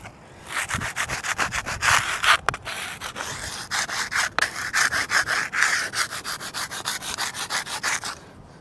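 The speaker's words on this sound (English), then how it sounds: "It's just a plastic scraper." A plastic scraper rasps against a weathered WW1 veteran's headstone in a Galveston cemetery, working a deposit hard as concrete in quick, rhythmic back-and-forth strokes, loud and close with no voices.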